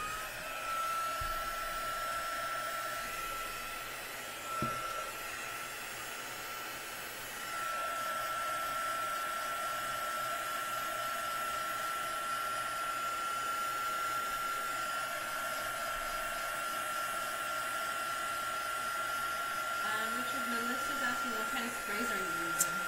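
A hair dryer blows steadily to dry dye-based ink spray on a paper card, a continuous whining whoosh that changes slightly in pitch partway through and runs without pause.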